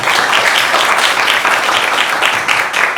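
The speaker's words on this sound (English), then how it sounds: "we give them both a round of applause" Loud, dense applause from a concert audience at the opening of the Walnut Hill Center in Seoul, a continuous wash of clapping with no voices, close and steady throughout.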